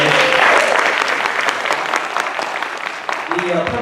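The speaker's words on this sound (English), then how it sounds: "So please give an applause to CT Church for opening their doors." Audience in a church applauding during a town hall meeting, a full, close burst of clapping lasting a few seconds, with a voice and faint tones briefly surfacing beneath it.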